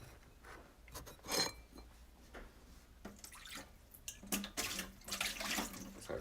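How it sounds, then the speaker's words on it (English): A kitchen tap runs into a sink while a few dishes are rinsed, giving a soft, close, uneven splashing and trickling with bursts of louder gushing and light clinks, no talking. "just rinsing a few dishes here"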